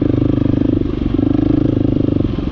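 A KTM 350 XCF dirt bike rides through mud, its engine droning steadily and loud with a pulsing, rough rhythm, close up and continuous with no talk over it.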